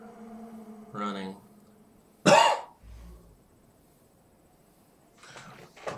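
A sick man coughs a few times at a distance from the microphone, short harsh bursts with a throat-clearing sound, separated by quiet gaps and a brief stretch of talk.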